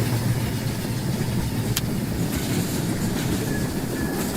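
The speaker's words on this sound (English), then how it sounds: "Now we have 2 trains on." Model trains run steadily in the Rolling Line video game, a continuous close rumble of wheels with faint clickety-clack and a brief high squeal, heard alone without talk.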